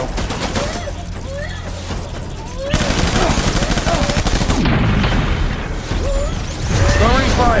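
Gunfire from the video game Death Stranding comes as loud, dense rapid bursts of shots mixed with booms and mechanical clatter, running continuously with brief shifts in intensity.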